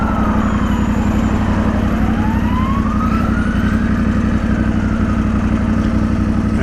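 A KTM motorcycle with a faulty quick shifter pulls away in first gear, its engine droning loud and steady up close with a rising whine as revs climb, and no voices.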